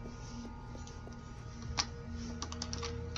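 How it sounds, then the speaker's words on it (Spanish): Small light ticks and crunches in Little Nightmares, as footsteps tread over broken glass, faint and irregular against a steady low hum. "Uy, yo pisando los cristales."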